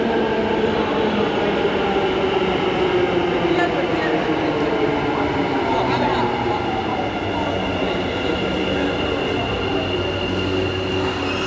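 A metro train passes close by in Bangalore's Electronic City, a loud, continuous rumbling roar with squealing wheels that holds steady for the whole stretch, with faint voices underneath.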